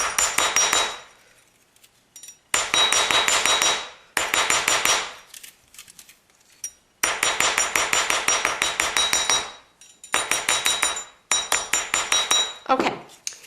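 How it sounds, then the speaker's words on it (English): Bursts of rapid tapping from a rawhide mallet hammering metal wire smooth, in several runs of quick, bright, close strikes separated by short pauses, with no talk. "and your rawhide mallet. So you want your wire smoothed out as smooth as possible."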